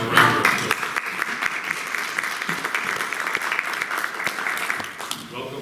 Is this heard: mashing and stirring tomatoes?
no